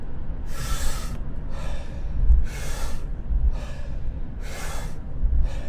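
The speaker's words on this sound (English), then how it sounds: "I also do my breathing techniques while I'm driving." Wim Hof style breathing done while driving in a car: six forceful, close breaths alternating sharp inhales and exhales at a steady rhythm, each lasting about half a second, with no speech.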